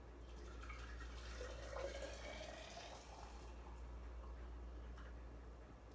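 Hot liquid fresh off the stove poured into a glass mason jar, a soft splashing trickle through the first few seconds over a steady low hum, fading to quieter dribbles.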